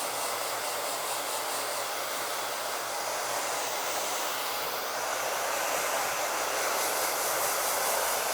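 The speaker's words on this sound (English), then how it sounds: "let it blow dry around" A hair dryer blows steadily on a hair topper during styling, a loud, continuous broadband whoosh that holds unbroken from start to finish with only slight swells in airflow.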